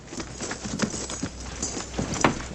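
Horses' hooves clop irregularly on the ground as a mounted cavalry detail halts and dismounts in a Western setting, several animals shuffling and stepping close by at moderate volume.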